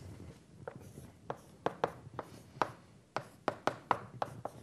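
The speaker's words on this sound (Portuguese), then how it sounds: "Então, vou escrever isso assim." Chalk or marker taps and scrapes against a board in a quick, uneven series of short strokes, close and clear over a quiet room.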